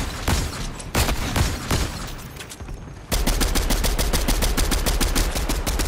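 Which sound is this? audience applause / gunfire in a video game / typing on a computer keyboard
gunfire in a video game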